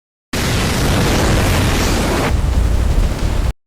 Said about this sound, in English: A massive explosion ripped through the north wing of Bath Consolidated School.